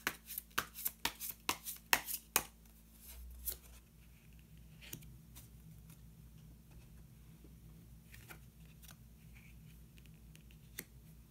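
Tarot cards being handled and drawn from a deck: a quick run of crisp, close snapping and flicking clicks in the first few seconds, then quiet with a few faint isolated taps.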